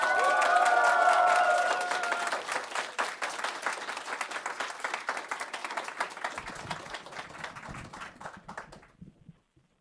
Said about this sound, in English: Let's give some quick applause.